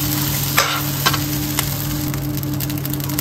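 Garlic fried rice (sinangag) sizzles steadily in a pan, a continuous frying hiss broken by a few sharp scrapes and stirs of a utensil, close and without talk.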